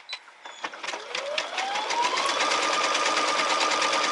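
A Brother SE630 sewing and embroidery machine stitches, starting with a few soft clicks and then settling into a steady, rapid mechanical whir that rises in pitch as it speeds up and holds close and even.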